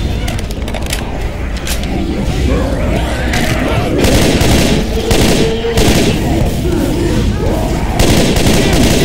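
Gunfire in Left 4 Dead 2 during the Dark Carnival campaign, a loud, dense barrage of shots and booms that rolls on continuously with chaotic clatter and no pause.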